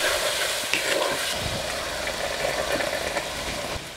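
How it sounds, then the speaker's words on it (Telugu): Soaked peas with salt, turmeric and spices sizzle steadily in an oil-filled pan, a loud continuous frying hiss with occasional stirring scrapes, close up and without talk. "ఇది ఒక 3-4 నిమిషాలు వేయించుకోవాలండి."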